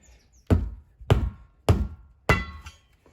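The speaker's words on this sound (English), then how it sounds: "Or maybe we just use the hammer" A hammer knocks the bead of a 35-inch Maxxis Trepador tyre over the wheel rim: four hard, evenly spaced close-up blows, each with a short ringing decay, and no talk.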